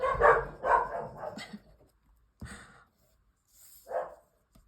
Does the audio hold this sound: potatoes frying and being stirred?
no